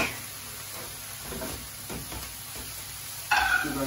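Garlic and leeks sizzle softly in a pan while being stirred, a steady close frying hiss with light scraping strokes and a brighter burst of sizzle toward the end.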